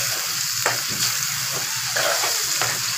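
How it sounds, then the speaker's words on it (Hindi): Mustard greens (sarson ka saag) frying in a hot pan: a steady, loud hiss with a few scraping stirs over three seconds. "इसके अंदर हम अब ये साग डालेंगे और फिर अच्छी तरह इसको हम फ्राई करेंगे"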